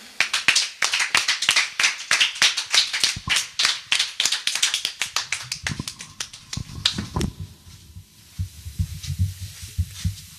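A church crowd applauding a pastor, dense rapid clapping at close range that thins after about six seconds into scattered claps over a low murmur of voices.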